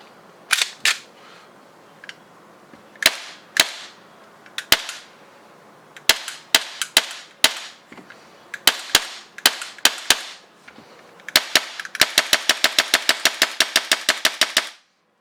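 A replica Glock pistol with a 3D-printed slide and blowback unit is test fired: sharp, loud cracks in irregular single shots, then a fast rapid-fire burst at the end, all close up with no talking.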